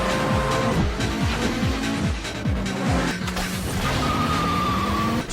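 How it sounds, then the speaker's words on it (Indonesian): Street race cars in a Fast and the Furious film scene, loud engines revving through repeated rapid gear shifts, with tire squeal and a dense, roaring racing soundtrack throughout. "Brian sudah memperingatkan Jesse, namun Jesse tetap melakukan balapan"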